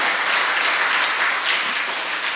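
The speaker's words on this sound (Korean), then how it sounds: "우리 주님께 영광의 박수 올립니다." Church congregation applauding in praise during a Sunday Easter service, a dense, steady wash of many hands clapping together, loud and sustained throughout with no voices on top.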